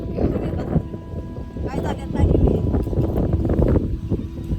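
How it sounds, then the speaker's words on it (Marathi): Strong wind buffets the microphone in loud, rumbling gusts, with voices talking faintly underneath. "लयच वारा सुटलाय"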